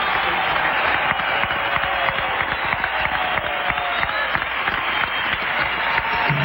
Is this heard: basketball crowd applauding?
yes